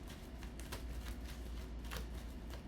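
Tarot cards riffle and slap together in quick, papery bursts, a steady close shuffling texture with sharp flicks standing out, no voices.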